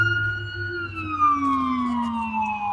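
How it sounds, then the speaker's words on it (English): A wailing ambulance siren slowly sliding downward in pitch, loud and fairly close, with road traffic rumbling underneath. "Oh, it's an ambulance."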